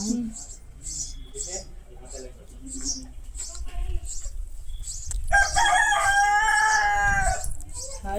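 Chickens cluck nearby, then a rooster crows loudly and at length, while people talk in the background.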